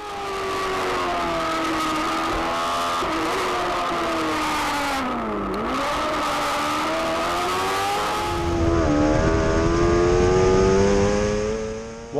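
A British F2 sidecar racing engine screams at high revs continuously at Anglesey, pitch dipping and climbing as it shifts gears, then roaring louder as it passes close by.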